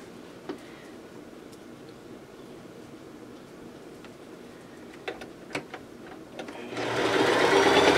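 A sewing machine stitches pieces of fabric together, with scattered soft ticks and taps before the motor whirs up loud and steady near the end.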